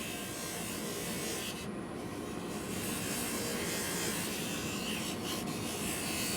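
A lathe polishes a clear duplicate denture with pumice, giving a steady loud rushing, rubbing whir that runs unbroken and close throughout.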